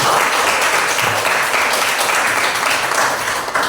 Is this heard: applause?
yes